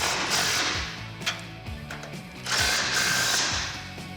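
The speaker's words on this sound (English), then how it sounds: "Now with a 21mm socket, we're gonna tighten down the two factory nuts." A 21mm socket on a power tool tightening factory nuts on a 2007-2013 Silverado 1500 front bumper: two loud whirring bursts with rattling, close up, with a brief pause between them.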